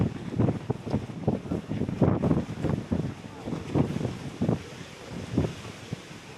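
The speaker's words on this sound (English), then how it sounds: "Oh, it's windy." Gusty wind on an Alaska cruise buffets the microphone in uneven rumbling bursts, loud and close, with faint voices underneath.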